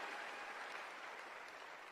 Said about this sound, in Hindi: तो एक बार जबरदस्त तालियां इन सब लीडर्स के लिए